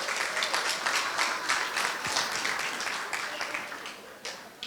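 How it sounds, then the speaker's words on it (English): A gala audience at an International Women's Day event claps in a sustained round of applause, many hands filling the room and gradually thinning toward the end. "I think you need to give yourselves another round of applause for being here"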